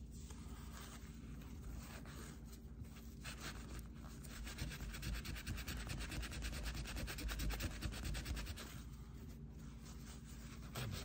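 Greasy heater parts scrubbed with a scouring pad, a quiet, steady, close-up rubbing and scratching with rapid back-and-forth strokes throughout.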